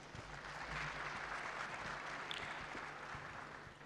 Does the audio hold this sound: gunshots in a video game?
no